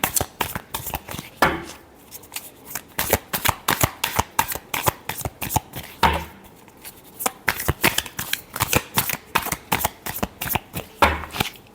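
Tarot cards being shuffled by hand, a close series of crisp riffling bursts and sharp slaps repeating in quick irregular rhythm for several seconds, with no talking.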